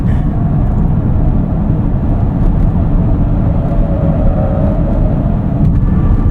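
A 2024 Chevrolet Equinox EV driven hard in sport mode up an entrance ramp, heard from inside as a loud, steady low rumble of road and wind noise with no engine note and no talking.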